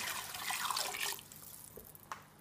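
About four cups of water poured into a pot for pea soup, a steady splashing stream for roughly a second that tapers off into a few light drips.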